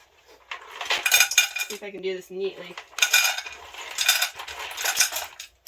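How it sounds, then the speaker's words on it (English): Small hard hickory nut pieces clatter and rattle into a metal cooking pot in several noisy bursts, with a brief spoken remark in the middle. "I'm just going to go ahead and dump this all into my pot here."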